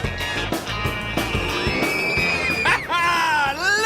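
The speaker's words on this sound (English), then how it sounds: "Listen to those kids scream!" Children shrieking on carnival rides, loud overlapping high-pitched screams and whoops rising and falling in waves amid crowd noise and a low rumbling background.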